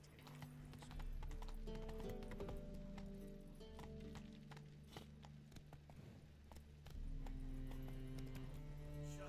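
The horse Roach gallops in The Witcher 3: Wild Hunt, with rapid rhythmic hoofbeats clattering continuously over a low in-game ambient drone.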